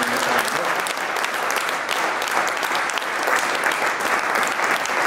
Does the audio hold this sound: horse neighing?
no